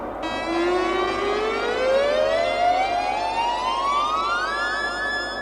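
A 1968 Radiophonic Workshop spaceship take-off effect: a steady electronic tone sweeps upward and grows brighter over several seconds above a low hum, loud and continuous.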